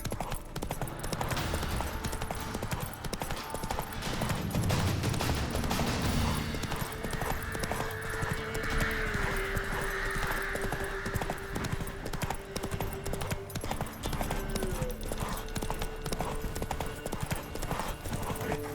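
Horse hooves gallop in The Witcher 3 game, with rapid, steady clip-clop beats throughout under a continuous musical background, loud and close.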